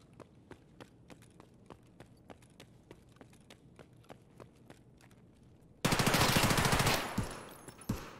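Gunfire in Escape from Tarkov: a steady run of evenly spaced single shots or footfalls, then a sudden loud burst of rapid automatic fire that tails off, with a final sharp report.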